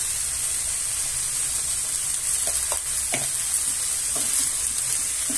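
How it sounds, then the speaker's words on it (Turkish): Onions fry in a pan for a spinach and egg breakfast dish, a loud, continuous sizzle with intermittent stirring clicks and scrapes close by. "Soğanlarımızı 5-6 dakika böyle kavuruyoruz güzelce."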